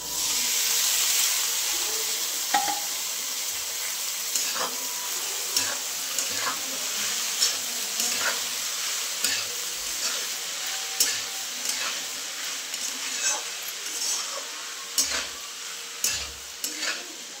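Tomatoes tossed into a pan of well-browned onions for a bean pod vegetable dish, frying with a continuous loud sizzle and steady hiss, broken by repeated stirring clatters, close and without talking.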